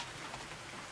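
Rain falling outside under an overhang, a steady faint hiss of dense drops pattering on surfaces, with no voices.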